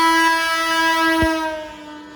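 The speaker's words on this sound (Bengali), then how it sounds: "মালগাড়ি" A goods train on a railway line sounds a loud, sustained horn that drops in pitch and fades as the train moves past, with a brief rumble mid-pass.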